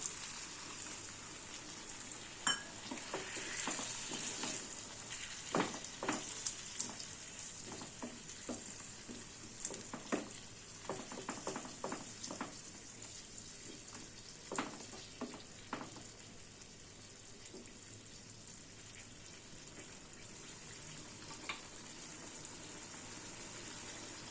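Pumpkin curry in a pan on low heat with a little water added makes a soft, steady bubbling sizzle, broken by scattered clicks and taps of stirring. It stays faint and close with no voices.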